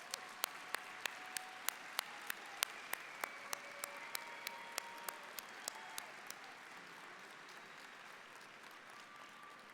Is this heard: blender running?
no